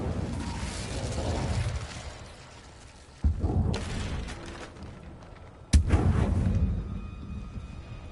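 Incendio fire spell cast in Hogwarts Legacy, heard as deep booming blasts: a rumbling burst that fades, then two sharp, loud impacts a few seconds apart, each followed by a decaying roar.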